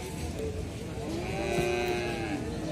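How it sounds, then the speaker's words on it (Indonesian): Simmental cattle mooing at a livestock market, a long low drawn-out call rising in the middle, with a steady background murmur and no talking. "Jenisnya adalah sapi simental."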